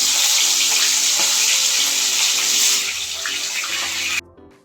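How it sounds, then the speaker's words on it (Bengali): Hilsa fish heads fry in hot mustard oil in a pan, a loud, steady sizzling hiss that softens a little before cutting off abruptly near the end. "সর্ষের তেল ঢেলে মাছগুলো একটু ভেজে নেব।"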